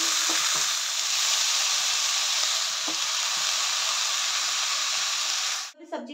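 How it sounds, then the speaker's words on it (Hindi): Red chilies sizzle loudly in hot oil, a steady crackling hiss with a few faint clinks, ending abruptly as the sizzle cuts off. "तेल गरम हो गया है और अब ना इसमें मैं ये लाल मिर्च डालूँगी"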